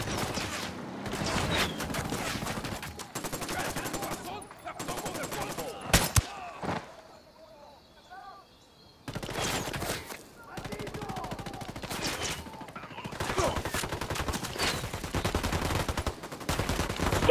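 Gunfire in Ghost Recon Wildlands, a tactical shooter played in first person, comes in loud, rapid bursts and fusillades with a short lull in the middle before the shooting resumes.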